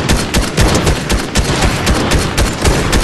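Rapid bursts of gunfire in Fortnite, dense overlapping shots fired in quick succession, loud and close with no pauses across the whole stretch.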